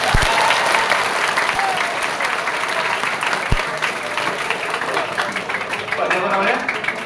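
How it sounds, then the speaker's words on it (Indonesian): A crowd applauds loudly and continuously, a dense wash of clapping with a few voices heard faintly underneath. "kasih tepuk tangan boleh"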